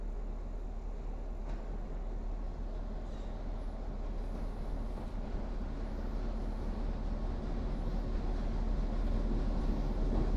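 Freight train rolling past on railroad tracks at roughly 15 to 20 mph, a steady loud rumble of wheels and cars continuing throughout, close enough to shake the camera.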